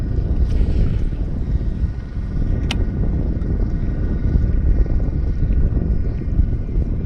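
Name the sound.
wind blowing on boat at sea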